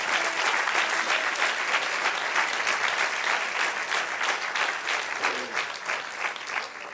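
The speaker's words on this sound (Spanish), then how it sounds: "Denle un aplauso al Señor." A church congregation applauds during a worship service, a dense, steady wash of many hands clapping that fills the full seven seconds and eases slightly toward the end.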